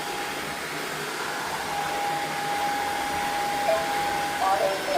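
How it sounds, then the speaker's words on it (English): A Tineco Floor One S5 floor cleaner, its motor repaired and running at full speed, gives off a loud steady whirring hum with a rising tone near the end, plus a brief electronic chirp. "now you can hear that the motor is working just fine."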